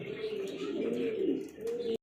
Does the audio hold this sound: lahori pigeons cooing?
yes